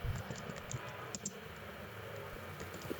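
Typing on a computer keyboard while writing HTML, a quiet, steady patter of soft key clicks with a few slightly sharper taps, running continuously at low level with no talk.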